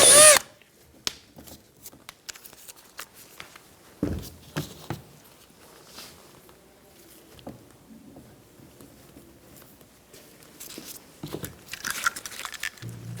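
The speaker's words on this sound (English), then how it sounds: "We're going to drill a hole and then install a rivet." A power drill boring a hole for a rivet while replacing window sweeps on a 1988-1999 GMC K1500 pickup, heard as short intermittent whirring bursts separated by pauses, close by, with handling clatter and no talking.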